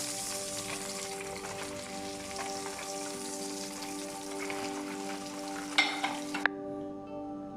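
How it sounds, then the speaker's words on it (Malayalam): Pieces of fried milk bubble and crackle steadily in hot oil, a dense close sizzle with a few sharp clinks of turning near the end before it cuts off abruptly. "2 സൈഡും തിരിച്ചും വറുത്തെടുക്കാം."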